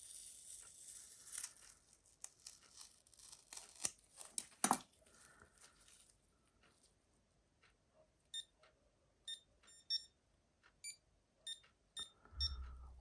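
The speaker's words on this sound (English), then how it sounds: "All I hear is alarms going off in this place" Faint electronic alarm beeps in short clusters from a Casio game watch, repeating at a distance, after some quiet rustling and handling noises.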